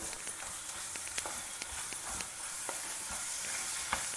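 Vegetables fry with homemade sambar masala for a home-style vegetarian lunch, a soft continuous sizzle with light scrapes of stirring, fairly quiet and close, no voices.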